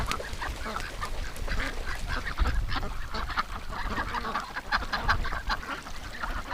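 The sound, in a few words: ducks swimming and quacking on a pond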